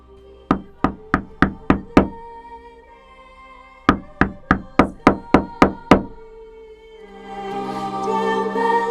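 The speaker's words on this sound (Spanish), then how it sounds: "tocó la puerta del tribunal del Santo Oficio" Knuckles rap on the door of the Holy Office tribunal in two crisp, evenly spaced runs of about six and eight loud knocks, separated by a pause and followed by a swelling musical tone.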